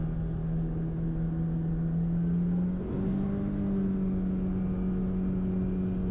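A Kawasaki Ridge side-by-side holds a high-revving engine at about 6,000 RPM near 30 mph, a loud steady drone heard close up, with a brief dip in pitch midway before it settles again.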